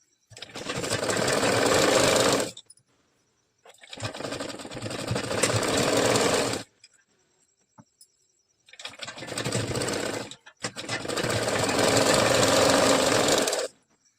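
A sewing machine stitches blouse fabric in three loud, steady bursts with short silent pauses between runs.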